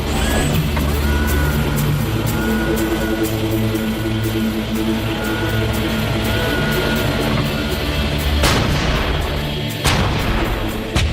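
An Archer self-propelled artillery vehicle sets up and fires, heard as a loud, steady mechanical engine drone with clanking machinery throughout, then a sharp heavy blast near the end followed by rumbling.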